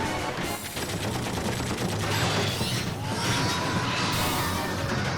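Machine gun fire from a Final Fantasy VIII game cutscene, a dense continuous rattle of rapid shots with mechanical clatter and crashes running throughout at steady, loud level.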